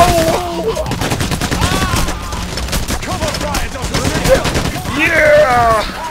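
Gunfire and explosion in the heist video game Payday The Heist: dense rapid shots and bursts of combat noise throughout, with excited voices talking and shouting over the action.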